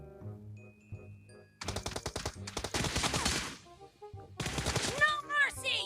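Rapid bursts of automatic gunfire from the game PUBG Mobile ring out in two dense volleys, preceded by a quiet tonal game sound and faint overlapping voice.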